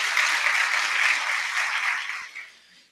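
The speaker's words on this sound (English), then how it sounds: "join me in a round of applause for these guys" A crowd at a fire academy class graduation ceremony applauds loudly, the clapping holding steady for about two seconds before tapering off and fading out.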